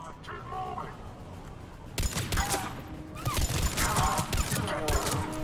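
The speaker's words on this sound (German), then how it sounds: "Da hinten wird geballert." Gunfire in the Mass Effect 3 video game: a loud fusillade of overlapping shots bursts in after a quieter opening and keeps rattling steadily to the end. Faint voices sit underneath.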